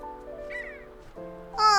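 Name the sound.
bird calling in video game Infinity Nikki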